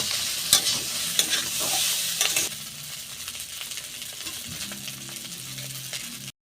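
Homemade potato pasta stirred in a hot pan, with scraping stir strokes and a few sharp metallic clinks over steady sizzling frying, fairly close and loud at first, then a quieter, softer bubbling sizzle.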